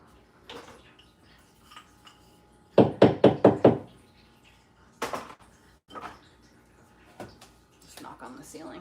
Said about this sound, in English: Just knock on the ceiling. Knocking on the ceiling.